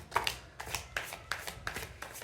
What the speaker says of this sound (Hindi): जब तक मैं आप लोगों के लिए कार्ड्स शफल करूंगा